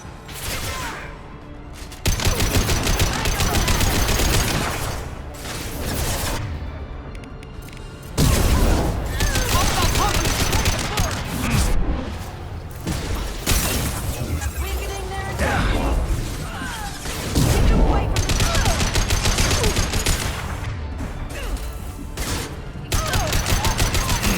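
Rapid gunfire and combat blasts from the video game Mass Effect 2 Legendary Edition on PC, loud and nearly continuous for the whole stretch, with heavy bursts and booming impacts over a busy battle din.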